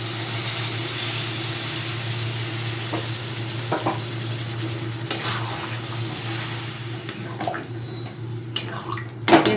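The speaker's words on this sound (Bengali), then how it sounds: "এখানে আমি জলটা অ্যাড করছি" Water poured into a pan of potol and potato curry, a steady hissing sizzle and bubbling over a constant hum, with occasional clinks and stirring sounds near the close.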